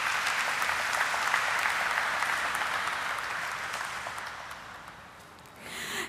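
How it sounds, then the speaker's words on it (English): Sustained applause from a crowd at an NSE stock exchange listing ceremony, dense and steady, tapering slightly before a brief swell at the end. "let us have a resounding of claps to mark the celebrations that begin now"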